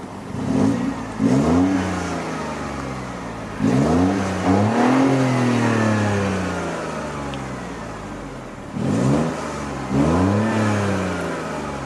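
Three-cylinder twin-power turbo engine of a 2014 Mini Cooper revved three times in sport mode, each rise climbing sharply in pitch then falling back, loud and close with no talking.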